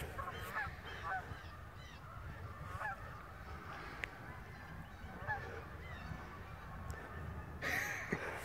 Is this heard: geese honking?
yes